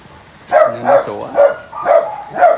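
Several dogs at a dog farm in Ben Tre bark in a quick series of five or so loud, close yaps with short gaps between them, with no talking heard.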